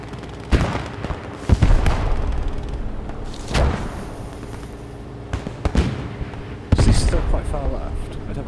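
Gunfire in a WW2 shooter video game: several heavy, booming shots and impacts spaced a second or two apart, loud against a low background, with a voice talking between them.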